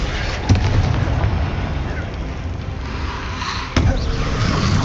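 Two Confringo fire-blast spells explode in Hogwarts Legacy, sharp and loud, a few seconds apart, over a rumbling bed of game ambience.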